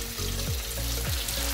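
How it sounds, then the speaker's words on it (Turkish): Chicken pieces frying in a pan at home for a Tavuk Dünyası-style dish, giving a steady, close hiss of sizzling oil with faint low clinks and shifts underneath. "tavuğumuzu gördüğünüz gibi kızarıncaya kadar hiç ellemedik"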